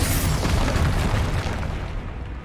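A loud booming blast from a Confringo spell in the Hogwarts Legacy video game bursts at once and then rumbles and fades over a couple of seconds, close and heavy, with nobody talking.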